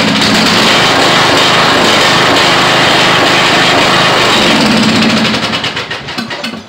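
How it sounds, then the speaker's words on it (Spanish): A Troy-Bilt lawn tractor engine runs loud and close on carburetor cleaner with a continuous buzzing roar, then sputters and fades as it starves for fuel. "Es todo lo que hace, pero si le pongo limpiador de carburador"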